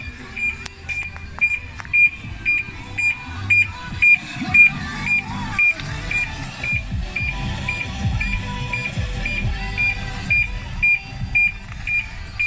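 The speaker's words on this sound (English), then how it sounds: "the alarm's obviously going to sound for 30 seconds as well." A BMW X5 E53 car alarm sounds a steady series of rapid, evenly spaced electronic beeps throughout, over low engine rumble.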